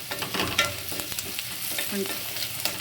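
Spices sizzle and fry in a pan with turmeric powder over a medium flame, a steady crackle broken by several scraping stirs of a spoon, close and fairly loud with no voices.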